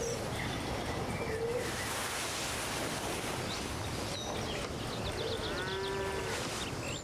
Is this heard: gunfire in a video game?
no